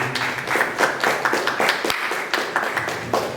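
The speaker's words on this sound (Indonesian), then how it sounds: "Kita kasih tepuk tangan untuk kedua para kali ini" Audience clapping at a village youth organization chairperson debate in Masangankulon, a small crowd giving a steady patter of hand claps up close, with a few sharper individual claps standing out.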